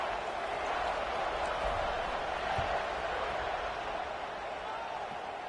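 A stadium crowd in the video game College Football 26 makes a steady, broad roar throughout, with a commentator talking over it.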